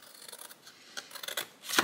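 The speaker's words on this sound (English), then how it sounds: "Then take your scissors and snip off the corners." Scissors snip corners off a paper gift box, giving a few soft, close, short cuts over less than two seconds, with no talking.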